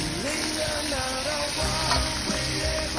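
Octopus, crab and other seafood sizzle and crackle steadily in a small pot over the heat, a continuous close frying hiss with occasional stirring bumps and no talk.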